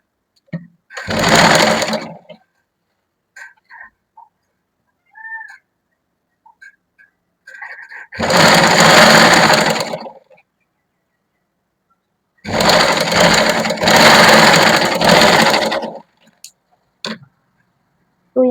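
Sewing machine stitching the sleeve of a lined kurti, three bursts of fast whirring stitches separated by near silence, with small clicks and handling noises between runs.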